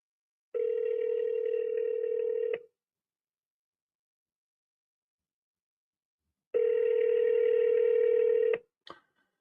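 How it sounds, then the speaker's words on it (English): A telephone dial tone sounds as a call is placed, a steady clear tone in two bursts of about two seconds each separated by silence, ending with a short click. "It's phoning."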